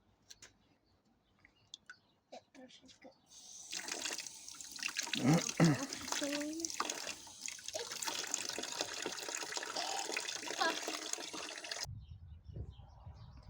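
Water runs from a tap while strawberries are rinsed, starting after a quiet, sparse opening and flowing steadily with splashing and dribbling until it stops abruptly near the end.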